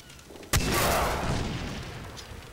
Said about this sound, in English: Oh, dang it, it hit me. Stupid machine guns.